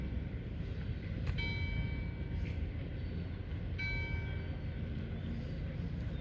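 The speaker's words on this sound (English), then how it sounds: "And the bell ringing." A town bell in Stornoway, Outer Hebrides, rings out the hour in a few separate strokes, each a bright ringing tone with a lingering hum, over steady low background rumble.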